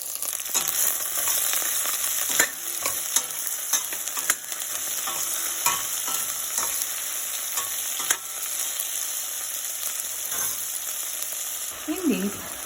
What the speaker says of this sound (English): here I'm adding this vendeka, that is the lady's finger, and I'm going to fry this one for 2 to 3 minutes